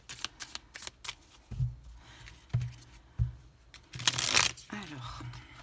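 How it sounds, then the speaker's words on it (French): Oracle cards being shuffled by hand at close range, a quick run of soft papery riffles and slaps in uneven bursts, with a louder rustle near the end and faint low thumps. "On va prendre 3 cartes."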